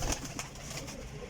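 Pigeons kept as flying birds coo softly in a few short, throaty calls, close by and with no talk over them.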